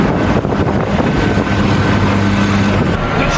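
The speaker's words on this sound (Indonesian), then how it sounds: "rekaman video menunjukkan awak dek penerbangan mengarahkan jet tempur untuk lepas landas" Jet engine roar from a naval fighter jet launching off an aircraft carrier flight deck, a loud sustained broadband rumble with a steady low drone throughout, no voices.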